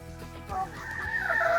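Chickens out in a backyard garden cluck and squawk at close range while being fed grain and snacks, the calls rising into a louder, sustained cackle toward the end.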